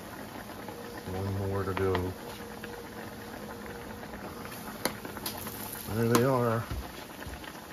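Small tilapia fish deep-frying in a pot of hot oil give a steady, close bubbling sizzle throughout, while a person talks briefly twice.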